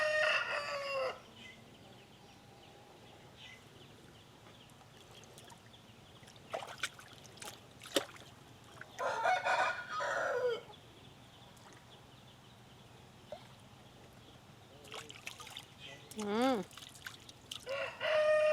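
Pampered fighting roosters kept for Sankranti cockfights crow and cluck nearby, with loud crows rising over a quiet outdoor background. People talk intermittently between the bird calls.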